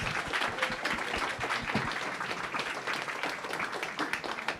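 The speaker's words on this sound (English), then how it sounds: "Yeah, round of applause." Applause from an audience at a campaign teach-in, a steady wash of many hands clapping throughout at moderate level, with faint voices mixed in.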